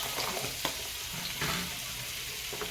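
Refined oil and a little butter sizzling in a pan as a gravy base, a steady, fairly quiet frying hiss with faint stirring clicks.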